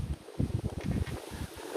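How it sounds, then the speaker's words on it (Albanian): Wind picking up as a cloud arrives over an outdoor spot in Montreal, gusting and buffeting the microphone in uneven rumbling bursts with a rustle underneath. "Ja, sa vjen reja, fillon era."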